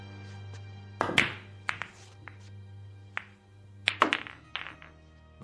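Billiard balls clacking together on a pool table in a staged radio drama, a few sharp knocks and taps spread out over a steady low hum, fairly close.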